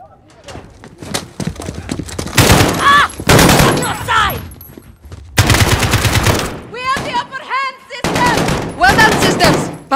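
Bursts of gunfire crack through dialogue in Call of Duty Modern Warfare on PS5, arriving in several loud volleys between stretches of spoken lines, with horse-like hoof clatter mixed in.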